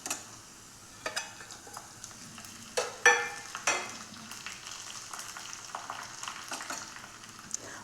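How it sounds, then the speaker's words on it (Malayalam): Mustard seeds and three broken dried red chillies crackle and sizzle in hot oil for an olan tempering, with sharp pops and spatters bursting over a steady fry and a few stirring clinks of a utensil, close and without voices. "ഇനി നമ്മൾക്ക് അതിലേക്ക് 1/4 ടീസ്പൂൺ കടുക് ചേർത്ത് കൊടുക്കാം"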